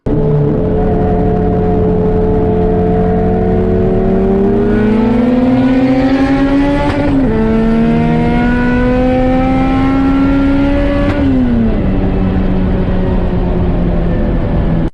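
A boosted Honda Civic racing past a Nissan GTR, its engine held at a loud, steady drone and then rising through long pulls, with shifts marked by brief drops in pitch.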